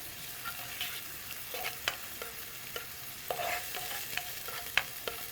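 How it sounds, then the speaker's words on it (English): Food sautés in olive oil in a home kitchen pan, a soft, continuous sizzle dotted with sharp clicks and spatula scrapes at irregular intervals, heard up close and quietly with no voices. "We're sauteing this in olive oil"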